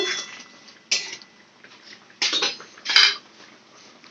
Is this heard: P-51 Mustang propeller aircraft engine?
no